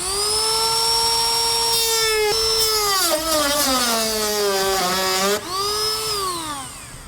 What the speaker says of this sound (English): For that, I'll just use a rotary tool so I can make a nice clean cut.